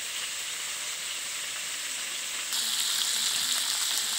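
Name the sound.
frying battered squid in oil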